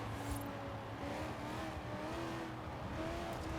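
An Australian saloon car in Forza Horizon 4 revs hard in a high gear, a steady engine drone with rising harmonic lines and a brief tyre squeal near the start, close and continuous.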